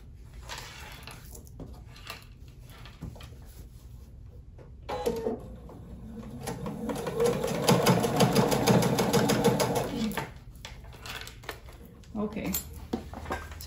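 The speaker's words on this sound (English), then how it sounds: "I'm going to stitch along the edge." Sewing machine stitching along the edge of a folded, quilted pocket for a clutch wallet: a soft run of rapid stitching swells in the middle and fades, with quiet handling clicks and fabric rustle around it.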